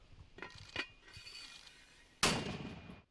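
A single loud artillery blast booms and rolls away, preceded by a few faint clanks and rustles.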